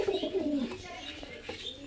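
Highflyer pigeons coo close by before release, a few soft throaty calls with faint chirps, and a voice murmuring in the background.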